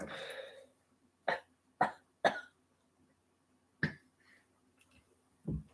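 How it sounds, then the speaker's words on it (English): Several short, sharp smoker's coughs, brought on by vaping, come one at a time with pauses between, close and fairly quiet, after a brief bit of noise at the start. "Which makes me cough."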